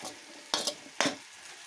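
Wheat residue (chotha) left after extracting wheat milk is stirred in a pan, with two short scraping stir strokes over a faint cooking hiss, close and fairly quiet.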